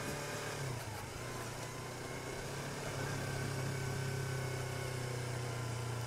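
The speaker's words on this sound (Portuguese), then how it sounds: "Caminhãozão lá na frente acelerando a milhão." A heavy truck loaded with logs runs on a rural dirt road, a steady droning engine rumble that holds level throughout, with a low tone shifting briefly near the start, heard from some distance under constant noise.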